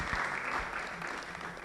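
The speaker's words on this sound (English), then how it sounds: "A round of applause for them." Applause rises from a lecture audience for the panelists at a public physicians' lecture, a brief, moderately quiet burst of clapping throughout.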